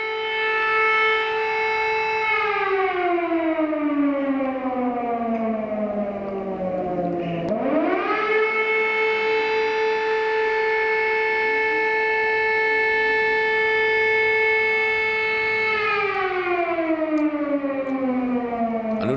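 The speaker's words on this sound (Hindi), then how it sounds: "यूक्रेन के कई शहरों में इस वक्त सायरन बज रहा है" An air raid civil defense siren wails across a Ukrainian city, a loud sustained rising and falling tone that holds steady for long stretches, with no voices.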